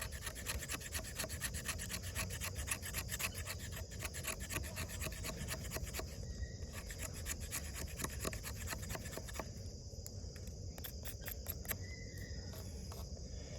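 A D2 steel HX Outdoors Rock Onyx ZD-104A button-lock folding knife scrapes along wood in fast, steady rasping strokes, faint and continuous throughout with no speech.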